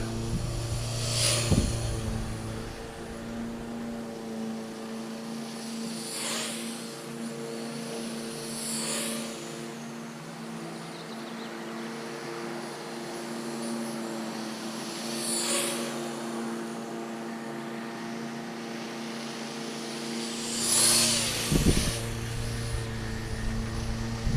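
An i-Drone i3S quadcopter flying outdoors in wind near full throttle gives a steady, sustained motor and propeller whine with a few louder swells as it passes, no talking.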